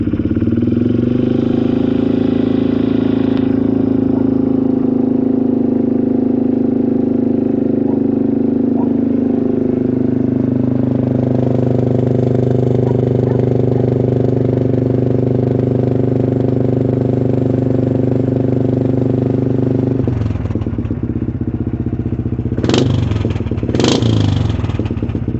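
A small pull-start engine, run after the choke was set, idles in a steady loud drone close by with a rough, even rumble, followed by a couple of sharp clattering bursts near the end.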